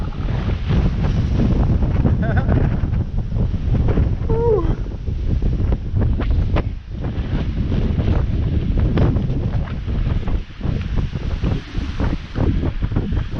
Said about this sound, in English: as you can tell, it's quite windy, very windy